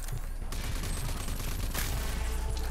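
Shotgun gunfire in the video game Rage 2 comes as a dense, loud barrage of blasts that fill the short clip without a break.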